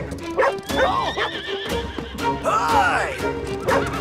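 Horses whinnying in a cartoon adventure, several shrill rising neighs close up, mixed with hoof clatter and animated voices speaking around them.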